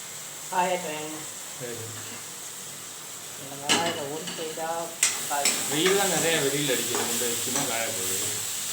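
Onions sauté and sizzle in a pan on a home stove, a steady soft hiss with occasional stirring clinks, under frequent close conversation between a woman and a man.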